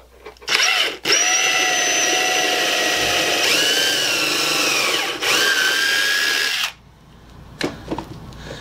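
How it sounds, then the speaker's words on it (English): A small power drill whines loudly for several seconds with a brief pause, its pitch shifting as the small bit bores a pilot hole in pallet wood, then stops; faint clicks follow. "I'm going to take this small drill bit and run a pilot hole"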